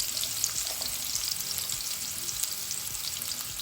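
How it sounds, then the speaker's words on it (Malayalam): Green chillies and curry leaves fry in a pan for bread upma, giving a steady, close sizzle with small crackling pops throughout and no talking. "പച്ചമുളക്, വേപ്പില ജസ്റ്റ് ഒന്ന് മൂപ്പിച്ചെടുക്കാം."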